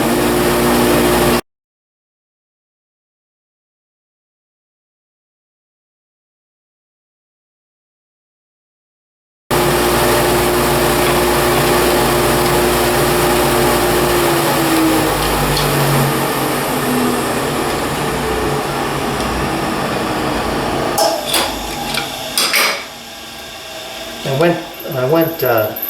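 A bit cuts a slight groove recess into wood for a locking fence bolt on a belt sanding station: a broad, steady whirring grind that resumes after a long silent gap and runs on, growing rougher and more uneven toward the end.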